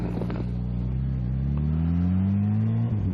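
A Kawasaki H2SX sport-touring motorcycle engine revs hard, its loud, steady drone climbing in pitch as the throttle opens, then dipping near the end, with no voices.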